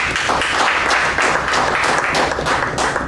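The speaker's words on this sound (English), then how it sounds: "Give them a big round of applause." Applause from the audience at the close of a Toastmasters club meeting, a close, steady, fairly loud patter of many clapping hands with distinct individual claps standing out.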